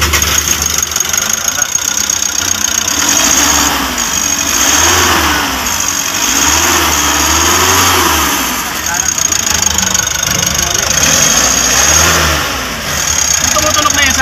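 A Mitsubishi L300 Euro 4 engine with a worn alternator bearing runs steadily at close range, its continuous mechanical drone rising and falling slightly through repeated revs, with a faint high whine over it and people talking underneath.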